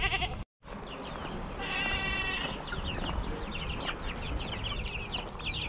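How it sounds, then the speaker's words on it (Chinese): A goat bleats with a wavering, nasal cry around the middle, heard at moderate distance over farmyard noise with chickens clucking nearby, at an animal area beside a cave attraction in Okinawa, Japan. "在旁边发现羊妹妹"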